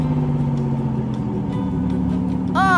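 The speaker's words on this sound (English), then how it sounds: "Look, the tractor's moving along." A toy tractor rolls across a table with a steady low motor hum, close and continuous, with a brief higher whirring sweep near the end.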